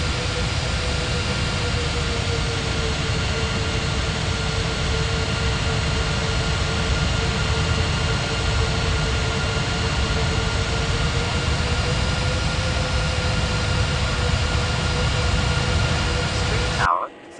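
Jet aircraft engines in an air traffic control video game hold a steady, even whine and roar for the whole stretch, loud and unbroken, cutting off abruptly at the end.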